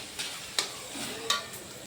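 Masala with green chili, coriander and a little red chili powder stir-fried in a large wok of hot oil in a village kitchen: a steady oily sizzle broken by a few sharp scraping strokes of the spatula.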